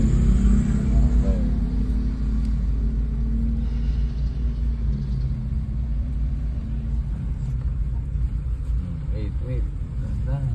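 A car driven along a road, its engine giving a steady low rumble with continuous road noise throughout, while people talk inside the cabin.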